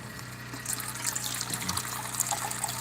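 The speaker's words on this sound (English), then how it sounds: "You can hear the water coming out of the water filter." Water trickling steadily out of a water filter indoors, a continuous close, moderate gurgling stream with a steady low hum beneath it and no talking.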